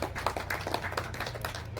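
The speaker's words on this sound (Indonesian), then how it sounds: "tepuk tangan dulu kalau gitu" Soft, scattered applause from a group at a candidate debate, a light patter of claps heard at a distance with a low hum underneath.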